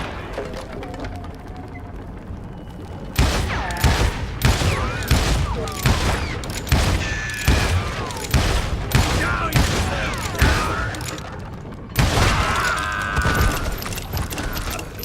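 Repeated heavy gunfire from Call of Juarez Gunslinger, a Western shooter: after a quiet start, loud, booming shots crack out one after another at a steady, rapid pace, with a short pause before a final burst, and faint voices lie underneath.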